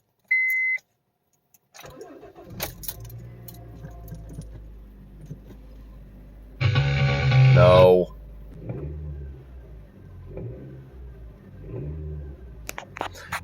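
A 2007 Honda Fit Sport with a short beep and jangling keys, then the engine cranks and starts, settles into a low idle, and revs sharply for about a second before dropping back to idle. A person speaks briefly.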